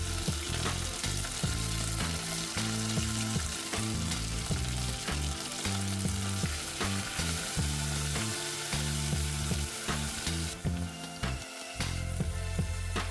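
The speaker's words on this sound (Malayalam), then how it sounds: "ചുവന്നുള്ളി മൂത്ത് വന്നാലുടനെ നമ്മൾക്ക് കഴുകി വാരി വെച്ചിരിക്കുന്ന മുരിങ്ങയില ഇട്ട് കൊടുക്കാം" Drumstick leaves and shallots fry in hot oil in a pan for a Kerala curry, giving a loud, steady crackling sizzle that runs continuously with busy popping throughout.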